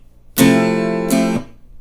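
A guitar chord strummed down and then up, ringing briefly before being cut off with a muted stop, in a down, up, mute pattern.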